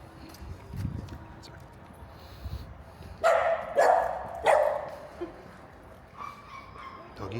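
A dog barks outdoors on a street in Fuengirola, Spain: three or four sharp mid-distance barks in quick succession over street background noise.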